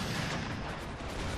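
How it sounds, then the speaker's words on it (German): Shrapnel artillery salvos firing in the Empire: Total War siege of Warsaw, a dense rolling mass of booming gunfire filling the whole short stretch at steady loudness, with no talk over it. "die ersten paar Salven mit Schrapnellen."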